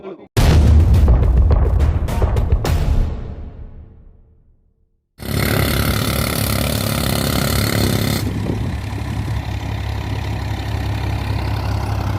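Explosives blast apart a rock boulder at Kanavanahalli near Sondekoppa, Nelamangala: one loud, sudden boom that rolls away over several seconds, followed by steady outdoor rumble and wind-like noise.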